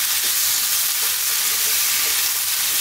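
Potatoes frying in a pan over high heat while being stirred almost constantly, giving a loud, steady sizzle with a faint scraping texture throughout and no talking.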